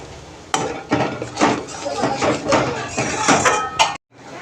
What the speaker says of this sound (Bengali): এটা দিয়ে দিয়েছি, এবার ভালোভাবে এটাকে কষাবো